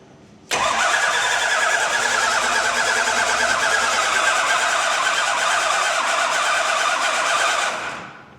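A Mad Max-style car engine cranks with a rapid, steady whirring churn that begins suddenly and runs for about seven seconds before fading away, loud and close, without catching.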